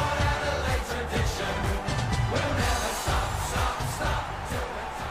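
A stadium crowd cheers in the AFL Evolution football video game as Geelong and Port Adelaide run onto the ground, a dense, continuous roar with rumbling low swells.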